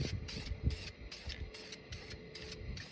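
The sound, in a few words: spray painting a light first coat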